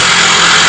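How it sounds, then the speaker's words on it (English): An electric jackhammer pounds at an archaeological excavation site, a loud, dense, continuous hammering roar that fills the whole moment close by. "electric jackhammer,"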